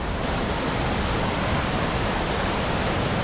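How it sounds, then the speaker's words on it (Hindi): A river rushes right below a camp in the Tirthan valley, a loud, dense, unbroken roar of flowing water filling the scene with no voices. "नदी बिल्कुल कैंप के नीचे से निकल के जा रही है"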